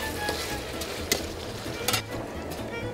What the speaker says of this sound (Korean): 깨끗하게 손질된 닭에 달인표 특제 간장 양념을 듬뿍 부어서 익히기 시작합니다